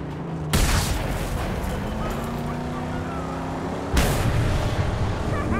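Two loud explosions in the Mad Max video game, each a sudden broadband blast followed by a long rumbling roar with a steady engine-like drone underneath, close and heavy.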